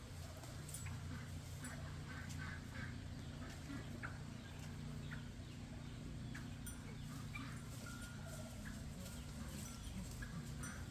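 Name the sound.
chickens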